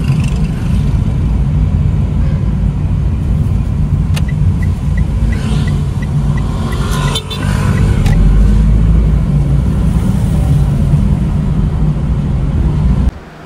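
A car drives along with a steady low engine and road rumble, loud and close, with a brief dip and a few small clicks partway through.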